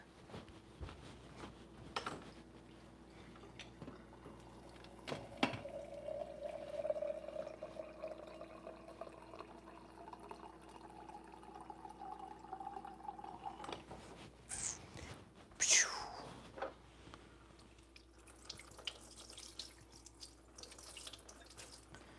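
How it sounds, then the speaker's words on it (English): Filtered water runs from a tap or dispenser into a container, a steady stream that rises in pitch as it fills, with clinks and a sudden splash near the end. "I gotta get my last bit of filtered water."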